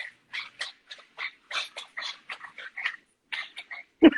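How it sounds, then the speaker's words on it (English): Dogs whimper and whine at a door in a string of short, high, nasal cries with brief pauses, close by, ending in a sharper yelp. "My dogs are trying to open the door."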